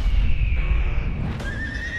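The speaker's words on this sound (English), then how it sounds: "Something very wrong with that horse." A horse neighs and whinnies loudly and close, a long continuous call lasting about two seconds, with faint hoof clip-clop beneath it in a Western film scene.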